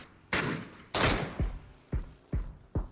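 In a video game, a series of loud, heavy gunshots fires in an irregular rhythm, each a sharp blast with a booming tail, about six shots over a few seconds.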